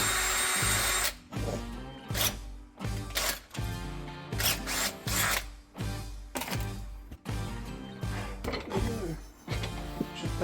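A handheld power drill runs in repeated short bursts with brief gaps, its chuck unable to grip tightly, loud and close during a DIY roof tent build.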